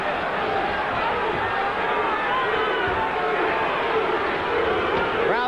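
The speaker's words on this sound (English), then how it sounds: "Crowd chanting Duke, Duke, Duke" A boxing arena crowd chants "Duke" during round 3 of the 1993 Tommy Morrison versus Carl Williams heavyweight fight, a continuous, loud roar of voices that fills the hall with a faint rhythmic swell.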